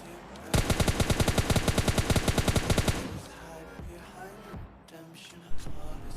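A battle royale shooter's automatic weapon fires a fast steady burst of about two and a half seconds, close and loud, followed by quieter game ambience and a single sharp thump near the end.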